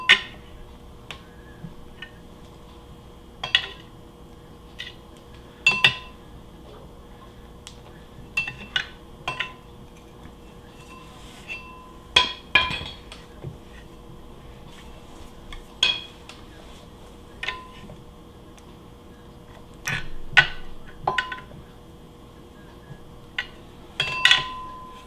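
Metal parts of a Porsche 912 engine clink and tap as the flywheel is worked off during a rebuild: scattered sharp knocks and rattles at close range, with no talk.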